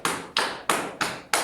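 Hands slap the buttocks five times in an even, brisk rhythm during a wake-up exercise routine, each hit a close, fleshy smack with a soft thud and no voices.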